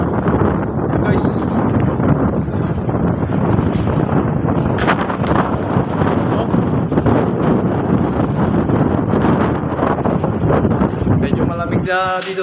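Strong wind roars and buffets across the microphone continuously on a boat at sea, with rustling and gusty noise throughout and a brief rattling burst at the end.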